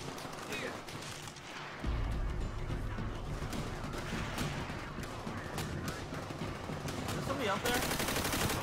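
Gunfire in the World War II shooter Call of Duty: World at War, dense rapid bursts of automatic and rifle fire rattling on almost without pause, loud and close, with a busy battlefield din behind.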